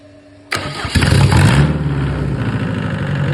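Mercedes OM604 2.2-litre diesel engine with mechanical injection pump cranks and fires abruptly, then settles into a steady, close, clattering idle.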